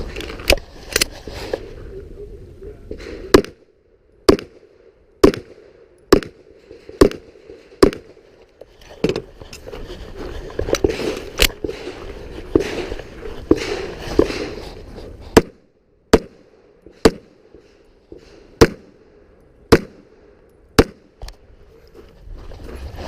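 Pistol shots ring out at an IDPA shooting match at an outdoor wildlife club range, a long series of loud sharp cracks spaced a second or two apart, with gaps and faint background noise between them.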